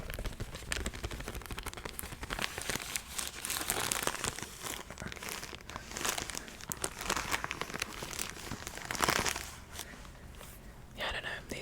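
Plastic packaging of Viva paper towels crinkles and rustles continuously at close range, with dense irregular crackles and a louder burst of handling near the end.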